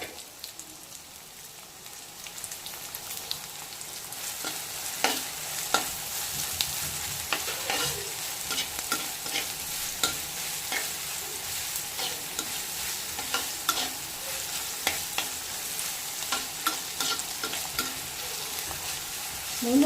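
Onions sizzle and crackle in hot oil, a steady frying hiss with scattered pops and occasional stirring scrapes, close up with no voices.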